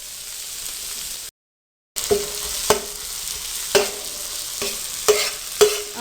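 Capsicum fries on a tawa for pulao, with a moderate sizzle, a brief silent break, then several sharp spatula taps and stirring clinks at irregular intervals.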